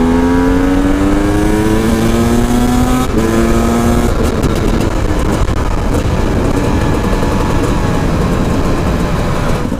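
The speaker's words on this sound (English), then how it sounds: "it just doesn't sound right. Listen to that. It likes to rev." A modern two-stroke XCW dirt bike with a wide-ratio six-speed gearbox, revving on the street: a loud, buzzy engine climbs sharply in pitch, breaks off briefly as it shifts, then settles into a raspy, rough drone.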